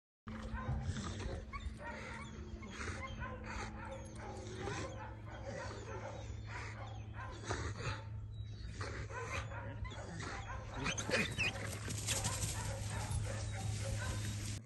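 A hog hunting dog in eastern Texas barks, yips and whimpers excitedly at release, a rapid run of close, loud, eager yelps over a steady engine-like hum, with people talking underneath.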